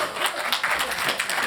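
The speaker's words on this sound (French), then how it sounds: "Un tonnerre d'applaudissements pour Claude et Philippe" An audience at a film screening evening bursts into applause, dense overlapping clapping that stays loud and steady throughout.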